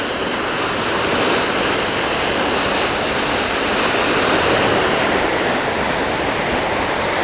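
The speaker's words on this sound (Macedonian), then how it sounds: "Еве доле има и истек, моќна вода." Powerful water outflow below Lake Kalimanci in Macedonia roars as a loud, steady, broadband rush, continuous and unbroken, like a waterfall heard up close.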